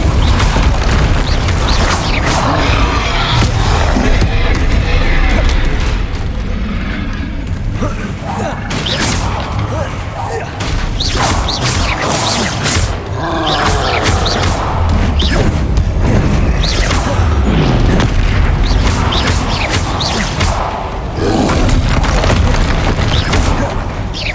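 Spell blasts boom and crash one after another in Hogwarts Legacy combat during a troll fight, a dense, loud barrage of impacts and bursts with a voice talking over them.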